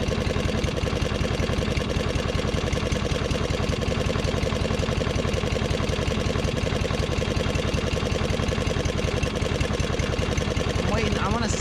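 A lawn mower engine drones steadily at full throttle, running continuously and loud close by with a constant buzzing pulse.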